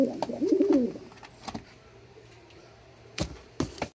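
A Damascene pigeon gives a short rolling coo near the start, fairly close, followed by quieter sparse clicks and knocks from handling.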